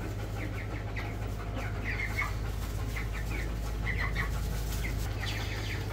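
Cornish Cross chickens cluck in short, scattered bursts in a barn over a steady low hum, with occasional faint wing flutters; no one speaks.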